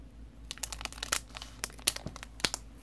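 A Pokémon booster pack wrapper from a Sun & Moon Strengthening Expansion Pack crinkles and tears open, with a run of sharp, close plastic crackles and rips, alone without talk.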